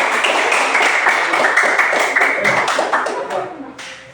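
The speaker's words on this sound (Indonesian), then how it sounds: "tepuk tangan untuk kelompok 1." Classroom applause for a student group, dense steady clapping from many hands that fades out toward the end.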